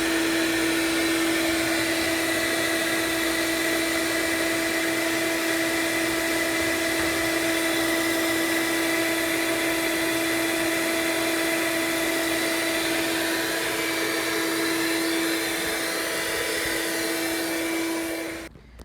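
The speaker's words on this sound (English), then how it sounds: "she just got done vacuuming up the garage" A Ridgid HD1200 12-gallon wet dry vac runs steadily while cleaning up a garage, a loud continuous motor whine with a strong tonal hum held for about eighteen seconds before it abruptly cuts off.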